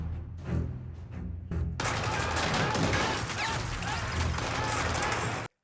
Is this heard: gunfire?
yes